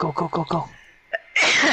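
A single sharp human sneeze bursts out loud and close during a Call of Duty Black Ops Cold War Zombies session, right after brief talk.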